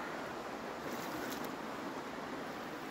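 Flooded stream with a lot of water running everywhere, making a steady broadband rushing roar, continuous and fairly close, with no voices.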